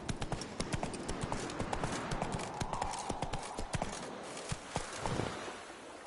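Roach, Geralt's horse in The Witcher 3, clip-clops along in a steady walking rhythm of close, crisp hoofbeats over a soft ambient bed.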